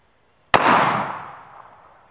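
A single loud, close gunshot from an FN Five-seveN MKII pistol firing a 5.7x28mm black tip armor-piercing round, a sharp crack followed by a long echoing decay, with no talking.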